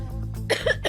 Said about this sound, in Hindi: वो जरा खांसी हो गई मुझे